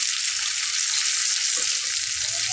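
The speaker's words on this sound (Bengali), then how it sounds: "আমি একবার উল্টে দিয়েছি এবং খুন্তিটা দিয়ে হালকা হালকাভাবে এভাবে চাপ দিতে হবে" Ridge gourd frying in a pan as a spatula presses it down, giving a steady, close bright sizzle with soft low scraping and pressing sounds underneath.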